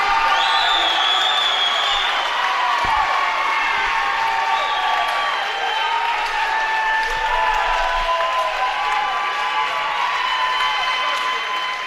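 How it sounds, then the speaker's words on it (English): A crowd at a high school basketball game between the DeForest Norskies and Stoughton Vikings applauds the Stoughton team, a loud sustained wash of clapping with cheers and whistles running the whole time. "well-deserved round of applause"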